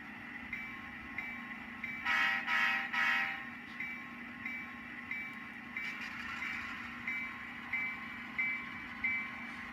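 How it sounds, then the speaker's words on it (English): Model diesel locomotive on a SoundTraxx Tsunami2 sound decoder idles while running light, a steady low rumble with a repeating mechanical pulse and short hissing bursts, fairly quiet and without speech. "the locomotive prime mover is at idle as the locomotive is running light"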